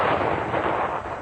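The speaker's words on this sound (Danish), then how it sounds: "affyres første kanon." An artillery cannon of a deployed field battery fires, a loud sustained blast and rumble filling the whole short stretch, with no voices.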